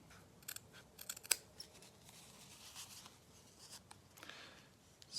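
Scissors snipping through material for a floral gnome hat, a quick run of crisp close blade clicks followed by quieter scattered rustles and further cuts.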